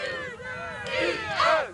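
Group of women outdoors in cold winter weather giving a quick, high-pitched shouted cheer, several voices rising together in a short, lively burst.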